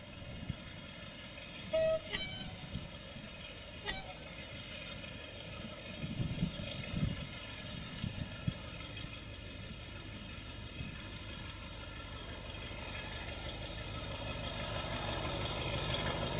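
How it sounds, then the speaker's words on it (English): A British Rail Class 33 diesel locomotive idles and rumbles at a distance, with a short horn toot early on and the engine growing louder toward the end. "The Class 33, British Railway's Southern Region workhorse diesel locomotive."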